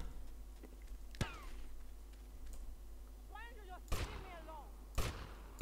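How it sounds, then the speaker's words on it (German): Sharp gunshots fire through a wall in GTA: Vice City, with four sudden cracks spaced a second or more apart over a quiet game background. "Wieso kann er durch die Wand schießen?"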